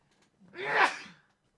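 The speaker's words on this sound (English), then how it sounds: "I got to sneeze." A single loud sneeze up close, a short breathy build-up followed by a sharp burst that fades quickly into quiet.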